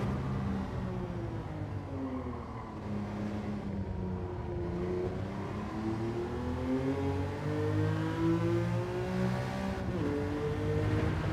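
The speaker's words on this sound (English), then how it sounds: "And you've got to rev it out." Car engine revving in Gran Turismo 7 during a time trial on the Widowmaker track, rising and falling pitch sweeps as the car accelerates, shifts and brakes, loud and continuous throughout with no talking.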